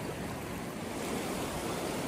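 A Himalayan river rushes beside a trekking campsite on the Hampta Pass route, a dense, steady roar of flowing water filling the whole stretch with no breaks or voices.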